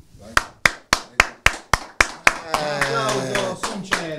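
One man claps his hands in a slow, even series of about nine loud, sharp claps at close range, then a voice starts talking and continues to the end.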